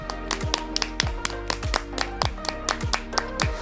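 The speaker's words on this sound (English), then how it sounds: "Let's just clap for our prediction" A small group claps along in a quick, uneven rhythm of sharp hand claps and taps, fairly close, broken by short pauses between bursts.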